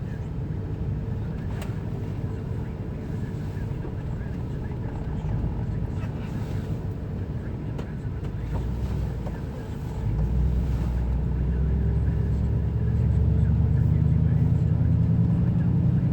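Chevrolet 2500HD truck with a swapped LS engine driving along, a continuous low engine drone and road rumble that grows louder and deeper toward the end, heard from inside the cab with wind noise.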